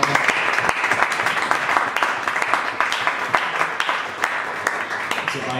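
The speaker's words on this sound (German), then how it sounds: "Applaus" An audience applauds a rider being introduced at a 2016 cycling team presentation for a southwest German team. The clapping is dense and steady throughout, with some crowd murmur mixed in.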